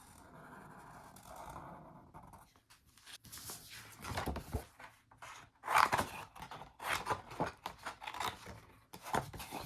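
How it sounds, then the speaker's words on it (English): Scissors cut an oval shape out of paper for a craft tree: quiet close snips and paper rustles, a run of irregular crisp cuts growing louder toward the end. "Cut that out."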